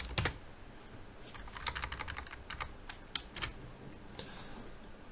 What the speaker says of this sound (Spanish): qué mal tecleo